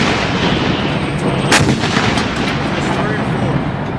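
An M198 155mm howitzer fires during an airborne field artillery training exercise. Loud, sustained rumbling blast noise fills the recording, with a sharp crack near the middle.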